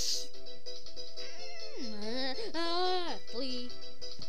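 A high, bending cat meow from Angry Birds Quest repeats several times over steady background music, with a synthetic, game-like quality.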